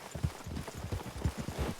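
Horses clip-clopping in a video game: a rapid, uneven rhythm of hoof strikes on the ground, close and fairly loud, from what sounds like several animals moving together.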